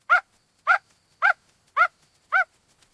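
A small dog barks five times in an even rhythm, each sharp bark about half a second apart, close and clear against silence.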